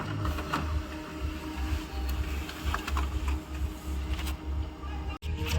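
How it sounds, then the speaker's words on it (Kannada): An office printer runs off a menu in a steady mechanical whir with a rhythmic feed pulse and faint clicks, close and continuous, ending in a short stop near the end. "ಮೆನು ಪ್ರಿಂಟ್ ತೆಗಿತಾ ಇದ್ದೀನಿ"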